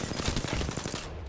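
Rapid automatic gunfire from a shooting video game, a dense burst of close, loud shots with no pause, cutting off near the end.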